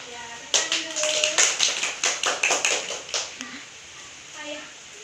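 A class of pupils in an Indonesian classroom claps hands together in a quick, rhythmic patterned sequence of sharp, close claps lasting a few seconds, then fading into quieter room sound with a voice briefly heard.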